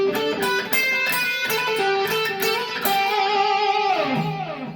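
Distorted electric guitar playing the second half of a song's solo, with fast picked notes flowing into long sustained bends that slide downward at the end, loud and unaccompanied.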